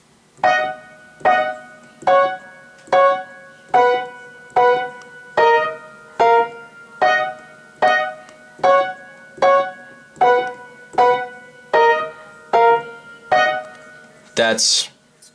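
A short repeating piano figure plays alone, evenly spaced chords struck in a steady rhythm about once a second, ending with a brief bright noise.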